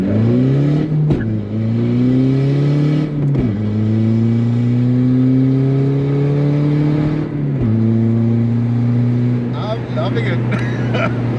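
A VW Polo TDI diesel engine accelerates in a car, its drone rising steadily in pitch through the gears with brief drops at each shift; loud and close, with a voice heard briefly.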